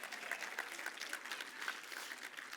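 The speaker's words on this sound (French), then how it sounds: "vous pouvez applaudir" An audience at a French-language sermon claps steadily, a dense, even patter of many hands sustained throughout at moderate distance, with no speech over it.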